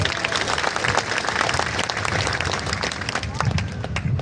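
A large crowd claps at an open-ground political rally at Rajiv Gandhi Maidan in Bikramganj, with dense, continuous applause throughout and a voice carrying over the clapping.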